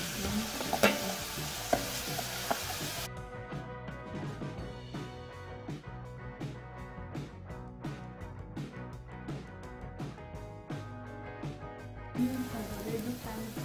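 Onions fry in a pan until browned, giving a steady low sizzle with intermittent stirring scrapes throughout.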